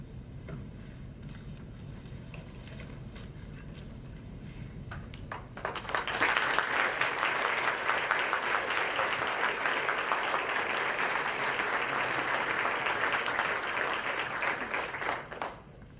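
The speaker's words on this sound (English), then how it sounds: "can we please give the competitors a round of applause?" Applause for moot court competitors at a national championship breaks out after a quiet murmuring room, swelling into loud, sustained clapping for about ten seconds before tapering off at the end.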